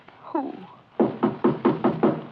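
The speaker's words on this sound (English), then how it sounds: "Someone at the door." Knocking on a cabin door in a 1940s radio drama, five or six firm, evenly spaced raps close by, following a short spoken phrase.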